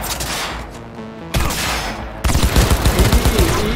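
Rapid gunfire from the video game Cyberpunk 2077 comes in loud, dense bursts that keep going back to back with hardly a pause.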